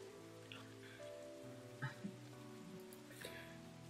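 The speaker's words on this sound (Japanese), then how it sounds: "でも当分雨止みそうにないよ。" Steady rain falls in an anime scene, a soft continuous patter running the whole time beneath sustained background music and a few brief louder accents.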